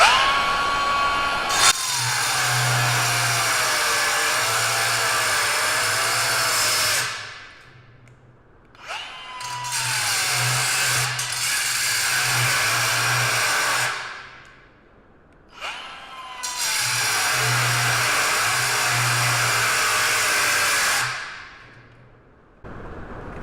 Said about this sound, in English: So my grinder wants to shut down really quick when you're cutting with it.